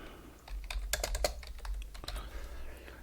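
Keyboard typing at a computer while entering text in a drawing program, a quick run of close, crisp key clicks with short pauses, alone without talk.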